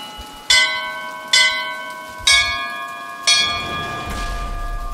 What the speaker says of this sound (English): Use the bell.